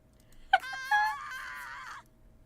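A girl lets out one short yelp, then a high-pitched excited scream lasting about a second that fades away.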